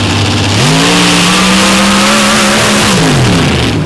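A dirt drag race car with a 959 cubic inch engine at an ultra quick dirt drags event, blasting loud and close as the revs climb sharply, hold a high steady scream, then fall away.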